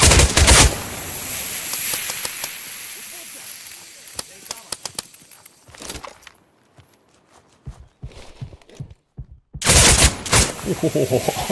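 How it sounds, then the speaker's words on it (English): Enemy gunfire in the tactical FPS Dagger Directive: loud bursts of rapid shots and crackling hits, near and harsh, broken by quieter moments with footsteps and someone talking over it. "they're just going to shoot me through the wall if I'm not too careful"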